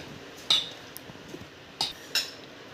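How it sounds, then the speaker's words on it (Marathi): Wheat flour cake batter being mixed with milk and soda in a metal bowl, heard as three or four sharp utensil clinks against the bowl spaced across a quiet stretch, close and fairly loud with no talk. "हा आता मिक्स करायचा व्यवस्थित।"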